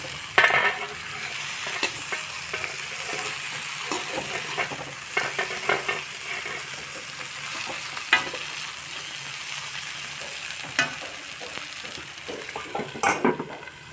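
Two slit raw green chilies join tomato frying in a pan, producing a steady close sizzle punctuated by sharp utensil knocks and scrapes against the pan.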